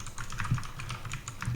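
Keystrokes on an HP GK200 budget mechanical gaming keyboard, a steady rapid run of clicky taps at close range, with no talking.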